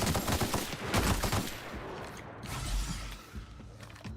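Rapid gunfire bursts in The Outer Worlds video game, a dense clattering volley up front that thins into mechanical clicks and rattles, with no talk over it.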